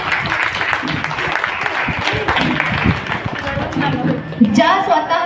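Women at a Women's Day Home Minister show in Badlapur West clap loudly in a close, busy burst of applause, with voices and some shouting mixed in and a brief high call near the end.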